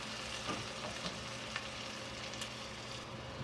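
Onions fry in a pan for a king fish curry, making a soft, even sizzle with a few faint clicks on top; no voices.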